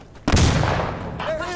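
A single loud, close gunshot blast from a weapon in the video game Insurgency: Sandstorm, with a booming tail as it decays and a voice speaking faintly under it.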